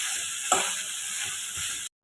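Ground spice powder is stirred into carrot palya frying in a pan, producing a steady, close sizzle with a sharp scrape of the spoon early on, before the sound cuts off abruptly.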